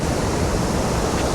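Water pours down a waterfall in Taiwan and splashes below, producing a steady, loud, broadband rush with no pauses, heard up close without any voices.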